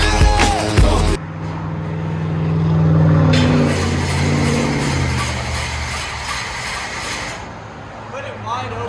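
A 1966 Chevy Nova with a cammed 355 V8 and Flowmaster Outlaw true dual exhaust revs loudly, with bursts of throttle swelling and falling over a rumbling idle while people talk nearby.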